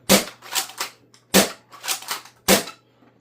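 Nerf Mighty Shrub Smiley bolt-action blaster with a heavy spring, primed and fired three times: each sharp close snap is followed by clacking bolt cycling, in an even rhythm with no voices.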